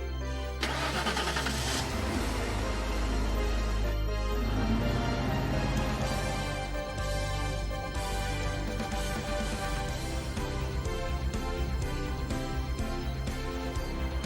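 A truck engine turns over and runs steadily, loud and close, then pulls away carrying passengers in the cargo bed, its tone shifting as it drives off under a continuous engine rumble.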